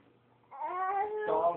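A cat gives a single drawn-out meow, close and fairly clear, rising and holding before a rougher ending; there is no talking over it.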